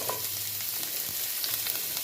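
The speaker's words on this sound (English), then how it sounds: "so the pot is hot, so I'm gonna add because the string bean take longer to cook, I'm gonna add this string bean" String beans sizzle in a hot pot, a steady, close frying hiss with faint crackles throughout and no talking.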